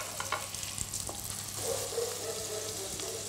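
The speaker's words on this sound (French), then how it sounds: "on va terminer la cuisson de la morue dans la sauce tomate" Cod pieces simmering in tomato sauce in a pan give off a steady bubbling sizzle with light stirring scrapes, close and continuous with no voices.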